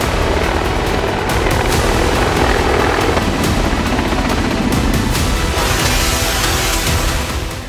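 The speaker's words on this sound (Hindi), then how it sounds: "हवाई युद्ध के ऑलराउंडर हेलीकॉप्टर" A military combat helicopter flies close by, its rotor and engine roaring loudly and steadily with rapid blade thumping throughout, easing off slightly at the very end.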